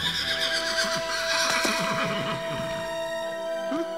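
A horse neighs loudly and close by, a long shrill whinny that wavers and trails off, with faint hoof clatter beneath.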